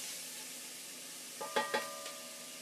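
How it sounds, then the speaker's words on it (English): Onions sauté in a pan over medium-high heat with a soft, steady sizzle, broken near the end by a few quick clinks of a spoon stirring, all faint and close. "medium-high heat, you want to kind of saute these a little bit, get a little bit of color on them. Browning the onions gets a bit more flavor to them"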